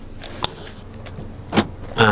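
Central locking on a car engaging from the front, a sharp mechanical clunk early on followed by a second louder actuator thunk and a brief whirring click near the end, close and isolated.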